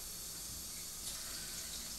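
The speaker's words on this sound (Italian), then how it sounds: "Mettiamo un filino d'acqua dentro il rubinetto e tappiamo con il tappo" Kitchen tap runs a thin stream of water into a sink while clams are being cleaned, a steady soft hiss with no voices over it.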